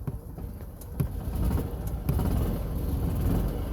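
A car engine running during a cold start, a low steady rumble that swells slightly and settles into a rough idle, heard up close and alone with no talking.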